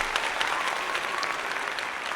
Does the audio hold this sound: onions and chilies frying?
no